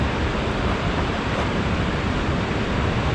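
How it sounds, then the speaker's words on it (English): A waterfall beside a lake rushes close by as a steady, dense roar of broadband water noise that stays even and unbroken throughout. No voices can be heard over it. "Waterfall to my right there,"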